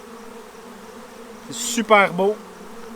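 Honeybees in a Saskatraz colony hum steadily and closely as the hive is opened, a continuous buzz under a brief spoken remark.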